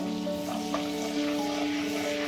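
Cooking oil and butter heating together in a deep kadai, a steady close sizzle and bubbling crackle running continuously with no voices.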